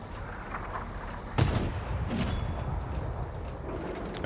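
A tank cannon shell fires in a tank combat game with a single loud, abrupt boom, followed by a second heavy blast under a constant engine rumble.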